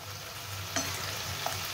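Small puti fish frying lightly in a pan give a steady, soft sizzle throughout, with a low background hum and a couple of faint clicks as they are turned.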